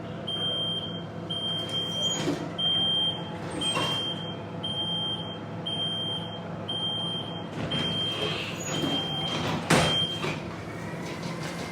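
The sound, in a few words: bus accessible ramp deploying at Madrid bus stop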